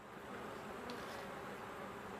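Honey bees buzz steadily at the hive, a continuous close hum with no gaps and no voices.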